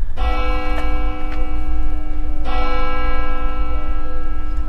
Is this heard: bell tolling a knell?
yes